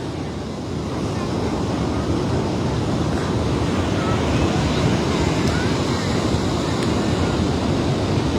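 Ocean waves roll onto a Texas beach during a hatchling release, a steady broad roar of surf blended with wind buffeting the microphone that continues unbroken throughout.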